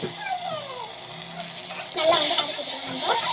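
Onions with ground tomato paste sauté in a pan, giving a steady broadband sizzle that grows louder and harsher partway through as the stirring picks up, close and continuous.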